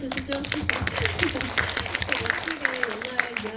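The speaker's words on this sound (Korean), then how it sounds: "박수 한번 주시죠." Continuous crowd clapping at a film screening and director talk in a cinema, a steady, busy patter of many hands heard under a voice speaking over it.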